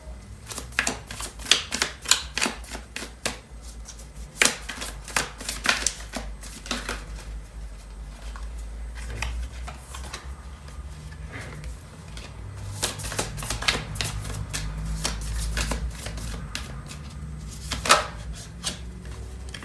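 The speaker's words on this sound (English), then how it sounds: "So I'm going to pull out some tarot cards for this reading" Tarot cards shuffled and handled by hand for a weekly reading, giving a run of crisp riffling clicks and flutters in irregular bursts at close range, with no talking.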